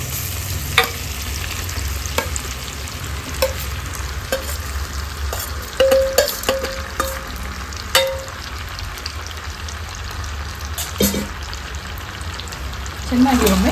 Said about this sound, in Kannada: ಇವಾಗ ಕಲಸಿಟ್ಟ ಮಾವಿನ ಹಣ್ಣನ್ನು ಸೇರಿಸ್ಕೊಳ್ಳೋಣ.